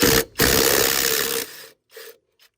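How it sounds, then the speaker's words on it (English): A 5/8 socket on a ratchet or power tool loosens the blade bolt on a rear-wheel-drive self-propelled push lawn mower, a loud continuous grinding whir that cuts off abruptly, followed by a few short metallic rattles. "So I am using a 5/8 socket for the blade bolt."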